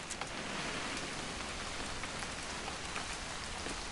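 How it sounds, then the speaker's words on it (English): Steady rain patters continuously on a surface in a narrative video game, a dense even hiss with faint droplet ticks throughout and no voices. "It's gonna rain the whole weekend, isn't it?"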